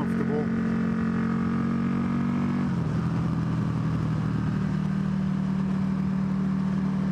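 A Buell 1125CR motorcycle engine drones steadily while riding, its pitch dropping partway through as the revs change, with continuous wind and road noise underneath.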